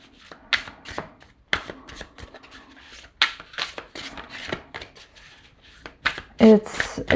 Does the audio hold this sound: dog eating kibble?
no